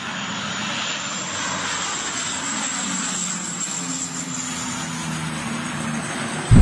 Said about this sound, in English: Several Canada Air amphibious planes took turns dropping water on a forest fire